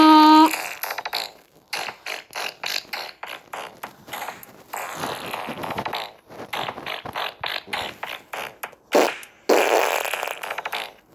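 Repeated cartoonish fart sound effects from the Troll Face Quest video game, loud and close, come in irregular bursts mixed with clicking, ratchet-like game noises.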